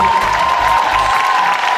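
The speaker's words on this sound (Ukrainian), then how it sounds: "Судя по аплодисментам" Audience at the YUNA music awards show applauding, a dense continuous wash of clapping with some cheering, loud and close, under a presenter's voice.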